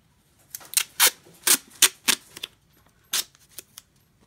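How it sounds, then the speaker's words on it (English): Adhesive tape is peeled and handled while a charcoal drawing is packed, giving a series of sharp, crackly rips and pulls in quick bursts, then a pause and a few softer tugs. "I'm going to switch tapes."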